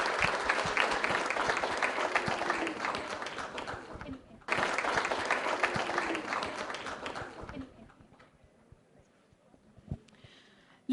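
An audience at a women entrepreneurship awards event bursts into loud, sustained applause welcoming a speaker, briefly pausing then resuming before fading out into quiet room tone.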